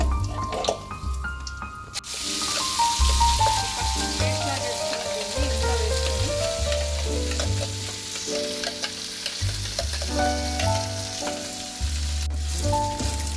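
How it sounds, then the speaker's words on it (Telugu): A ground spice paste is added to hot oil already holding bay leaf, cinnamon and cloves for a green chili egg masala curry, sizzling loudly and steadily up close while being stirred, with a low hum underneath. "ఈ పేస్ట్ చేసుకున్న మిశ్రమాన్ని ఈ ఆయిల్లో ఇలాగా వేయించుకోవాలి"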